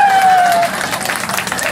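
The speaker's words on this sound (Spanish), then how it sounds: "Un aplauso para la quinceañera" Applause and cheering from a crowd of guests at a quinceañera birthday party for Berta, a steady broadband clatter of clapping running through, with a sustained whistle-like tone over the first part.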